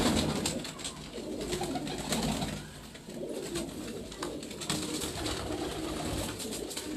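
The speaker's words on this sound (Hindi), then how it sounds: "कबूतर अच्छा है हाँ।" Pigeons coo on a rooftop in Larkana, Sindh, their soft throaty calls repeating nearby over a low steady background, with no talking heard.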